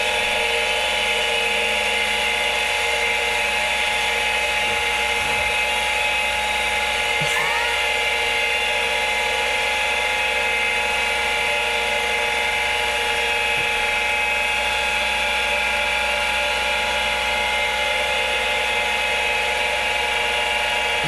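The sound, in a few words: vintage Macintosh IIsi computer spinning up and running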